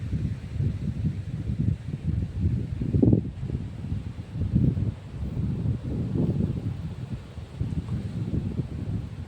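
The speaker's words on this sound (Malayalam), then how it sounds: "നല്ല കാറ്റ് വീശുന്നുണ്ട് ശരിയായ കാറ്റ്" Strong wind buffets and roars in gusts close to the microphone on a hilltop overlooking a dam, rising and falling in low rumbling bursts.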